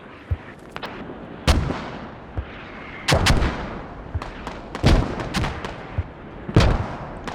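Rocket artillery barrage in a tactical shooter game: a string of sharp, loud blasts and booms arriving in irregular bursts, some close and heavy, others lighter cracks, with brief gaps between volleys.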